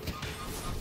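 Bebop's bomb lands in the video game Deadlock with a loud, dense burst of crashing impact noise that fills the whole short moment and swells again at the end.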